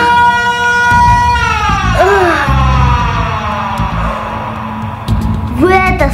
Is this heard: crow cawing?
no